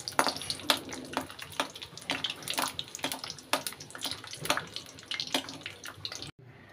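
Raw peanuts frying in hot mustard oil make a close, steady crackling sizzle dotted with sharp pops, and it stops abruptly near the end.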